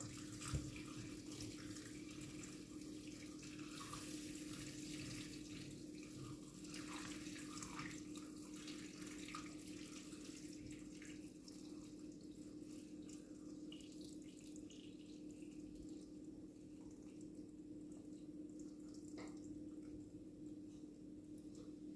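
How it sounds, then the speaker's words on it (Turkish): Boiled water poured from a tall drinking glass into glass jars of pickles, a steady soft trickling and splashing that runs evenly throughout, faint and close over a low background hum, with no talk. "Üzerine de kaynamış su."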